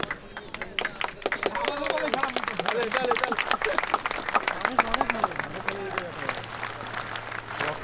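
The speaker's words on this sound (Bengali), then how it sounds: "জোরে হাততালি হবে জোরে জোরে জোরে জোরে জোরে হাততালি হবে" Dense crowd applause at the BGB–BSF border parade at Banglabandha, Tetulia, Panchagarh, a steady wash of many hands clapping mixed with crowd babble, loud and sustained throughout.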